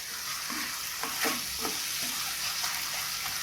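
Marinated chicken, rested with lemon, salt and turmeric, goes into a hot pan for a spicy Chettinad chicken gravy, giving a continuous close sizzle with soft stirring scrapes and small bursts throughout, no voices.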